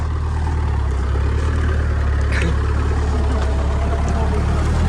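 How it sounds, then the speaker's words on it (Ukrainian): A GAZ truck engine running while driving through a corn field area, a steady loud low drone with constant rumble throughout, with a voice talking faintly beneath. "зараз їдемо на газончику з Іваном Івановичем."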